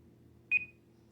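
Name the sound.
timer beeping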